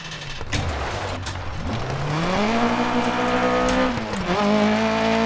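Rally car engine in Dirt Rally 2.0 held in fifth gear, a steady loud drone whose pitch climbs and settles as it pulls, with brief tire noise early on; no one talks.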